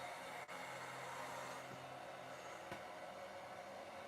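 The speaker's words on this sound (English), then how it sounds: "Do a quick little blow dry." Hair dryer blowing over a painted figure, a faint steady whirring hiss heard throughout with a couple of brief knocks.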